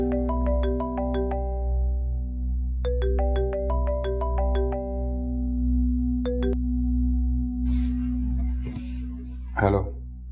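A phone ringtone in a Pakistani TV drama, a repeating electronic melody in three bursts of rapid chiming tones over a steady low hum, followed by fainter rustling and a brief thud.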